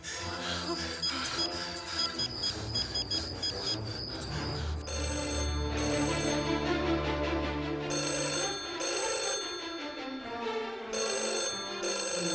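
An electronic phone ring repeating in bursts over background music and some murmured voices, moderately loud.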